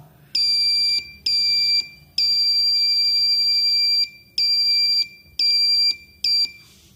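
An electronic buzzer in a transistor switch circuit with an LED sounds in a series of loud, piercing beeps of varying length separated by short gaps, close and steady in pitch.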